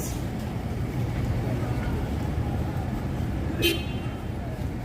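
Steady traffic rumble on Third Avenue near 12th Street in New York City, with a short, sharp car horn toot cutting through near the end.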